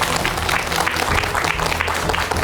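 A studio lecture audience applauding to welcome a doctor onto the stage, dense and loud clapping from a large crowd that holds steady throughout.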